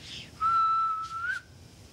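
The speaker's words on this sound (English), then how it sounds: "nobody move to the second whistle" A single sharp, sustained whistle blast, clear and fairly close, holding one steady pitch before rising slightly at the end, with a hushed background.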